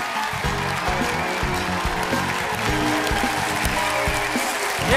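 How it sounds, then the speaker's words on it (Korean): Steady applause fills a comedy-show studio audience hall, even and sustained throughout, with a low musical hum running underneath. "힘찬 박수 보내주세요"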